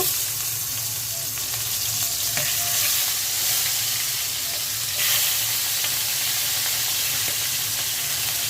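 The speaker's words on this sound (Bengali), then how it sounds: "এখন মাথাগুলো ভেজে নিব।" Rohu fish heads fry in hot oil with a constant loud, close sizzle and hiss, with occasional soft stirring in between.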